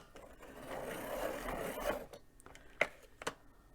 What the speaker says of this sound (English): this is a Prismacolor black cherry, and we're just gonna sharpen it